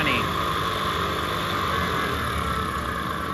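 Engine fitted with an Accel 59130 HEI distributor revved up and held steady at about 6000 RPM, a loud, continuous high-pitched roar that stays nearly constant throughout, with no talk over it.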